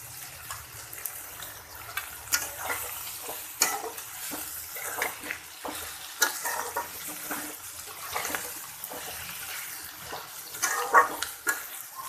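Chopped ginger fries in a pan for carrot paneer, a faint, gentle sizzle with intermittent spatula scrapes and clicks nearby.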